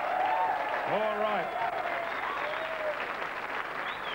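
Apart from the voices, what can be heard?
studio audience applause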